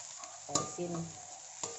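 Fried rice with salted fish being stirred in a pan, giving soft scraping and quiet sizzling with a couple of sharper utensil knocks against the pan.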